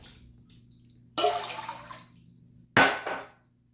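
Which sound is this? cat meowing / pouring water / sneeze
pouring water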